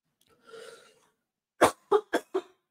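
A faint breathy rasp, then a burst of four sharp, close coughs in quick succession.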